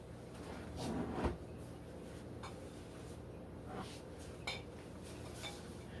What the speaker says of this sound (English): So, get my jars.